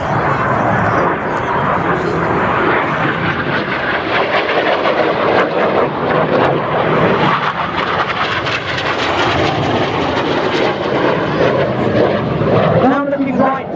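RAF Red Arrows jet aircraft pass overhead at the Welshpool Air Show, a loud, continuous roar that holds steady for the whole stretch.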